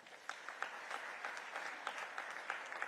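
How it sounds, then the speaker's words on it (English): Audience applause for the four speakers of a session at an army chiefs' conference in Pune, a steady patter of claps with sharper individual hand claps standing out, moderately distant and sustained throughout. "May I request the audience to please give a round of applause to the four speakers of this session."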